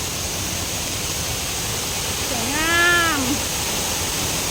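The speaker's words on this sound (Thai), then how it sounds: "น้ำตก" Waterfall at Chet Khot Nuea in Chet Khot–Pong Kon Sao park, Saraburi, giving a steady, loud rushing roar throughout, with a brief meow-like wavering cry rising over it midway.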